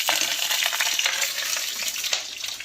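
Panch phoron spices fry in hot oil, a dense continuous crackling sizzle up close with small stirring clicks and pops running throughout.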